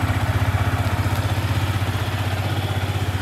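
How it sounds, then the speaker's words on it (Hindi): A Yamaha R15M motorcycle, a 2023 model, idles just after being started, its exhaust giving a steady, close, throbbing low pulse with faint mechanical clatter and no talk. "अब कर लेते हैं बाइक को स्टार्ट और सुनते हैं कि किस टाइप का अपने को एग्जॉस्ट साउंड यहाँ से मिलने वाला है"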